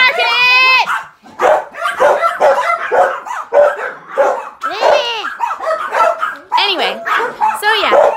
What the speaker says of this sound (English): What are y'all barking at?